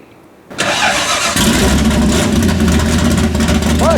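A hot rod car engine cranks and catches after a brief quiet start, then settles into a loud, steady idle with a deep rumble held close for the rest of the run.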